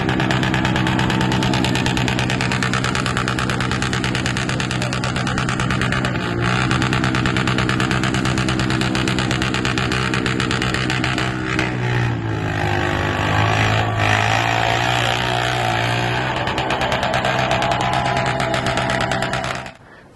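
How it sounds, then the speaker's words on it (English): A Honda 520 four-wheeler engine screams steadily on its rev limiter while churning slowly through a deep mud bounty hole at a mud racing event, loud and close, with continuous buzzing drone and slight pitch wobble throughout. "this four-wheeler stayed on the rev limiter the whole way through the bounty hole"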